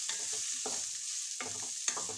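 Turmeric powder is stirred into chillies frying in oil, with a soft sizzle underneath and several distinct scraping strokes of a spoon across the pan.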